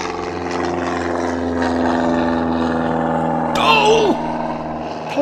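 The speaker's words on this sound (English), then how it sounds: "so I could get some better shots of the aircraft" Aircraft at Dunkswell Airfield drone steadily with a propeller-like roar close by, a sweeping pass rising near the end while someone exclaims over it.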